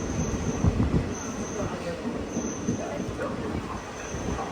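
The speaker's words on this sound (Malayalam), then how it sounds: "റെയിൽവേ സ്റ്റേഷനിലേക്ക് നമ്മുടെ ട്രെയിൻ എത്തിക്കൊണ്ടിരിക്കുകയാണ്." A train pulling into Kasaragod railway station, steady heavy rumble of wheels on track with faint high squeals, loud and continuous at close range.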